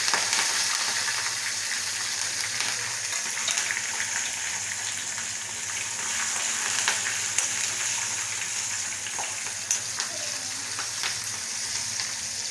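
Curry leaves and chopped green chillies sputter in hot oil as a tempering for steamed pohe, a dense, even sizzle held close and loud for the whole stretch with no voices.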